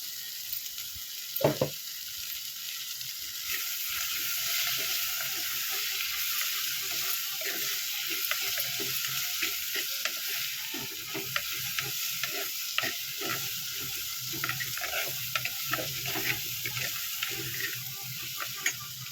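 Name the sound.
oil heating and stirring in a frying pan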